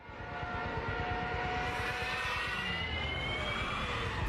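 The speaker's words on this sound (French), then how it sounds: "c'est celui des Junkers 87, les plus célèbres avions allemands de la Seconde Guerre mondiale" A Junkers 87 Stuka, the German World War II dive bomber, roars steadily overhead with a droning engine and a rising whine, loud and sustained throughout.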